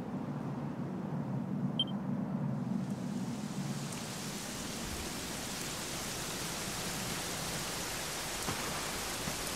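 Steady rain falls in the Dragon Quest 11 video game, a dense even hiss with a low rumble in the first few seconds, continuous throughout with no voices.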